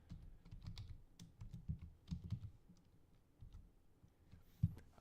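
Soft computer keyboard typing in quick irregular bursts of clicks with short pauses, quiet and close, with no voice.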